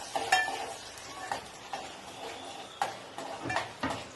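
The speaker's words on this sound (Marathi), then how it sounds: "कढीपत्ता कांदा फोडणीला कांदा फ्राय करायला टाकला आहे" Onion and curry leaves frying in a pan for a fish curry tempering, a soft steady sizzle with a few sharp clicks of a spoon stirring against the metal.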